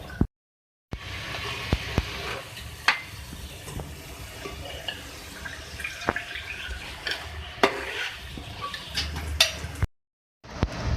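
Beef stew with chopped green coriander being stirred and mixed in a pot, with soft scraping, clinks of a spoon against the pot and occasional sharper knocks, steady and close, no talk.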